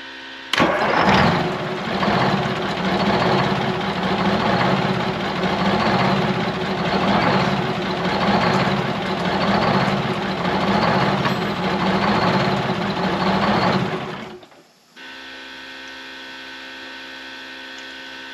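A 1973 Peterbilt 352 cabover truck with a V12 engine cranks and fires, then settles into a loud, pulsing idle with a steady rhythmic throb for about fourteen seconds before cutting off abruptly, leaving quiet background hum.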